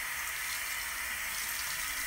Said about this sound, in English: Okay, it's time to add more water.